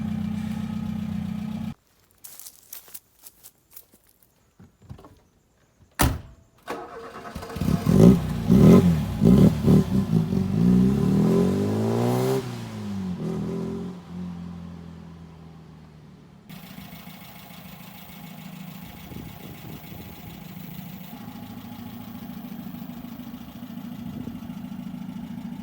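Modified Mk2 Ford Fiesta engine with a raspy exhaust, starting with a steady idle, then clattering cranking bursts, followed by loud revs that rise and fall before settling into a steady running note.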